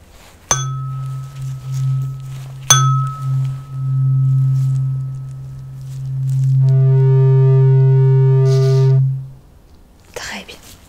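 Pure electronic test tones from a cranial nerve hearing exam sound in turn: brief beeps, then a long, steady low hum and a higher, brighter tone, all alone in quiet with a soft voice close by.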